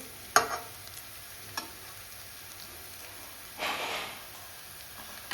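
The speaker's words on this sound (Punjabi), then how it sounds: "ਇਹਨੂੰ ਵੀ ਆਪਾਂ ਹੌਲੀ ਹੌਲੀ ਕਰਕੇ ਪਕਾ ਲਾਂਗੇ ਸਲੋ ਫਲੇਮ ਤੇ" Potatoes and green beans cook slowly in a pan over a low flame, giving a faint, quiet sizzle broken by a few soft stirring scrapes. No one speaks.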